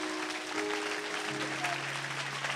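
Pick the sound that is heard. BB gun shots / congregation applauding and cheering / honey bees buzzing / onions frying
congregation applauding and cheering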